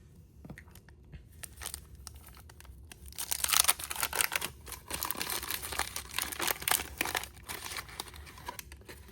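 Crinkly foil wrappers of 1989 Topps wax baseball card packs being torn open up close, a run of crisp crumpling and tearing bursts that grows busier after a quiet start.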